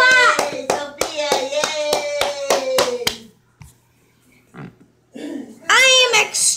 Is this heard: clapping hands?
yes